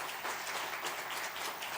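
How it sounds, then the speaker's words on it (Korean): A church congregation at a Sunday worship service claps to welcome a visiting missionary, a dense, even wash of applause that sounds a little distant and stays steady throughout. "우리 뜨거운 박수 한번 환영하겠습니다"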